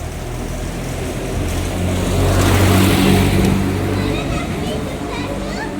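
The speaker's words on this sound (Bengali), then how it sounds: "গাড়ি আসছে ওদিকে যা" A car approaches along a street, its engine noise swelling to a peak near the middle and then easing off, with children and other voices talking over it.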